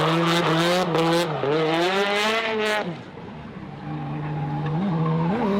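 A car's engine revs high and wavers as the driver initiates a drift, then drops away into a long, loud tire squeal that rises and falls, close and unbroken.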